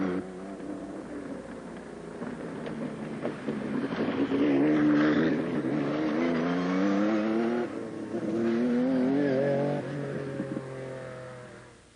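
Porsche sports car driving on a test track, its engine revving up and down in surging, rising passes that swell loud then fade, with no voices over it.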